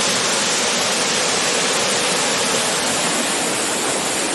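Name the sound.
waterfall near Roche Abbey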